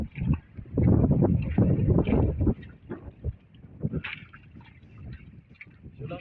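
Strong wind buffets the microphone in loud, rumbling gusts that rise and fall throughout.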